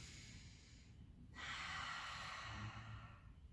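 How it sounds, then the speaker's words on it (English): A person breathing deeply during a power vinyasa yoga session. Steady, airy breaths sound close and unvoiced, and a louder, fuller inhale or exhale swells midway and holds to the end. "Taking our deep breaths here."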